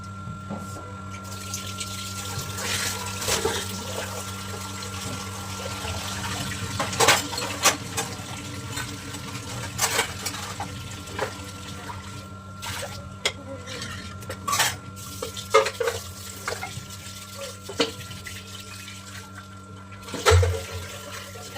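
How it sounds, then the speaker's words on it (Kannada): Raw chicken is rinsed under running water in a home kitchen, a steady close splashing stream broken by sharp clinks and knocks of a vessel, with no talking. "ಚಿಕನ್ ತೊಳ್ಕೊಂಡ್ರೆ ನೀರು ನೀಟಾಗಿ ಸೋರ್ಕೊಳ್ಳುತ್ತೆ"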